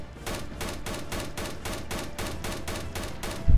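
Rapid, evenly spaced sniper shots from the Dread Scar H in a Roblox game fire about three times per second, loud and sustained, with no talking.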